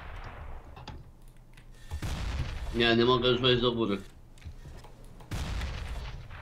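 Cannon fire in a CS:GO match, a booming blast with a ringing tail heard amid ongoing game noise while a player talks over it.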